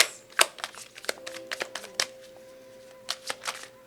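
Tarot cards being shuffled by hand, a series of sharp riffling flicks and soft slaps in irregular bursts, close and fairly quiet, with a brief pause before a final few flicks.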